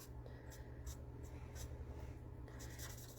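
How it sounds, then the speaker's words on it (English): Close scratchy strokes of a Stampin' Blends alcohol marker colouring on paper with the broad nib, a series of quick, soft rubbing passes in an irregular rhythm, with no voice. "I tend to use the large end of the marker,"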